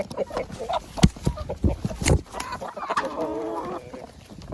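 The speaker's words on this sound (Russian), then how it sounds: "Все, культурно кушайте. Как нормальные воспитанные куры." Laying hens clucking and murmuring as they eat from a bucket, several birds close by in a loose, irregular chorus with a few louder calls, alone without speech.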